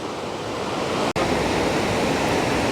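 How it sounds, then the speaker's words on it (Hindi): Aharbal waterfall in Kashmir, a huge cascade heard as a loud, steady broadband roar of rushing water close by, continuous with a brief dropout and no talking. "लेकिन ये ह्यूज वाटरफॉल है।"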